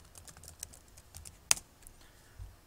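Keys tap on a computer keyboard in quiet, irregular clicks, with one sharper keystroke partway through. The typing sounds close and light, with no talking.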